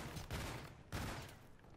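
Gunfire from Call of Duty: Infinite Warfare, two sharp bursts of shots about half a second apart, fairly faint, each decaying into a noisy wash.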